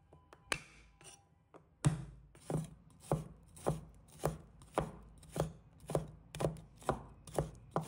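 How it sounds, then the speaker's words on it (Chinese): A knife minces garlic on a cutting board in evenly spaced chops, about two per second, each a crisp close thud with a short tail, heard alone. "再准备一把大蒜，把它切成末。"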